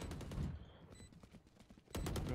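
Gunfire from the tactical shooter game Valorant, with loud broadband bursts opening and closing the short stretch and quieter rapid shots and game sounds in between.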